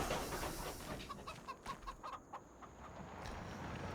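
A rooster clucks in Farming Simulator 25, a short series of close, rhythmic fowl clucks over a steady outdoor farm ambience.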